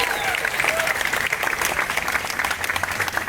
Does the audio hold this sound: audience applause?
yes